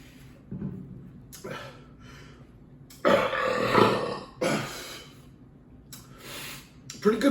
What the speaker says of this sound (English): Pretty good burp.